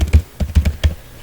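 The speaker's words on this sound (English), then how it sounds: "So here I'm typing" Quick bursts of typing on a computer keyboard while entering an SQL query: a handful of crisp, close key taps in an uneven rhythm, with a short pause before the last strokes.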